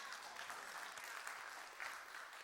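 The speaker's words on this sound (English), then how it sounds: "You can clap for that." A congregation at a church sermon applauding, a steady wash of many hands clapping at a fairly distant, even level with no distinct voices.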